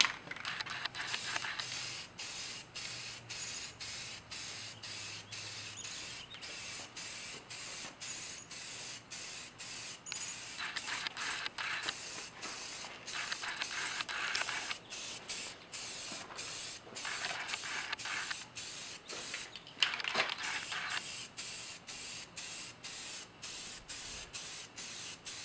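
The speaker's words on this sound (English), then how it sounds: "keep yourself about 12 inches, 8 to 12 inches away from your project so you don't put too much paint on it all at once." A light first coat of aerosol spray paint goes onto an Iron Man Mark 38 Igor armor helmet: steady close hissing in repeated long bursts with brief gaps between passes, heard alone without speech.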